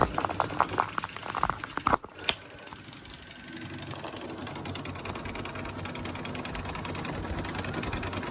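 A sewing machine does background quilting on a patriotic eagle mug rug; after a few scattered knocks and taps it settles into a steady, rapid mechanical stitching chatter that runs continuously at close range.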